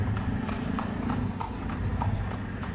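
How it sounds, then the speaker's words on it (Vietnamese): Horse-drawn carriages pass along a dirty street near the Giza pyramids in Egypt, with hooves clip-clopping in a steady, moderately near rhythm over a low background rumble. "Xung quanh đây toàn ngựa, xe ngựa thứ."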